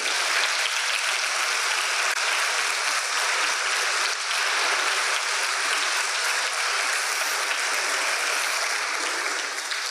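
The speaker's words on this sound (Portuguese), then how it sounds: "dá um aplauso bem lindo para ele." A church congregation claps steadily and loudly for about ten seconds, a thick, even wash of applause filling the room without a break and with no voices standing out.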